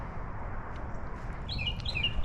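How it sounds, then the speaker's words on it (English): High chirps and tweets from birds cut through steady low rumbling background noise, growing more prominent toward the end. "those birds are loud"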